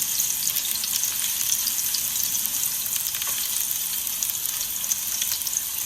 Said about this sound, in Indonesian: Dan masukkan bawangnya, krengseng sampai ke coklatan, kekuningan